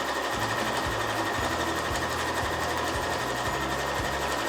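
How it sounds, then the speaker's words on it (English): A sewing machine stitches evenly spaced quilting lines through a patchwork bag, its motor running in a steady continuous whir with a rhythmic needle pulse throughout, close and fairly loud. "I will lower my needle and continue sewing from here"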